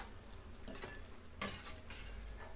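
Chakli spirals frying in hot oil give off a soft, steady bubbling sizzle, with a couple of brief clinks from a utensil against the pan rising above the hiss.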